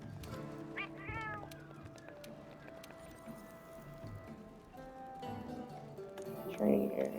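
A small black and white cat in Monster Hunter World gives several short, close meows over a soft ambient game backdrop, with a brighter cry near the end.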